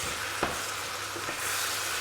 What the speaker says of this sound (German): Auch damit ganz kurz anbraten.